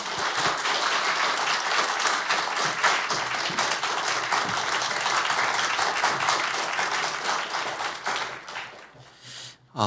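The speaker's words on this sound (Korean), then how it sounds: "박수로 맞이하겠습니다" Church congregation at a mothers' prayer meeting applauding to welcome a pastor to the pulpit, a sustained crowd of clapping that holds steady for most of the stretch before tapering off near the end.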